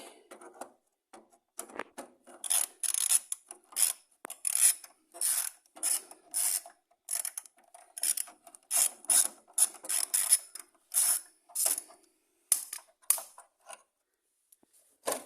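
Ratchet wrench working a bolt loose on a Husaberg dirt bike, heard as repeated bursts of close, bright clicking in short irregular strokes with brief pauses between them, without any talking.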